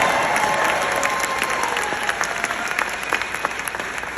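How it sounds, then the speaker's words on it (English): Lively audience applause fills the room, dense and steady clapping with a few sharper claps standing out, at a concert-style talk about a soft rock band's early hit in Australia. "And yes, you can applaud that"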